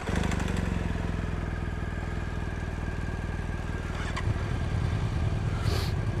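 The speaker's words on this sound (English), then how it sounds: "There's one motorcycle." Motorcycle engine at a day of motorcycle races, a steady loud rumble running throughout with a rougher, louder throttle burst near the end.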